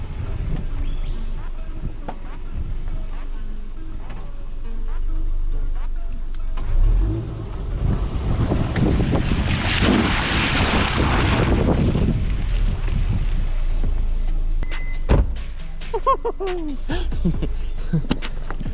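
A car pushes off-road through a slippery section, its engine swelling and straining loudest midway amid rough wind buffeting on the microphone, with a rumbling low drone throughout.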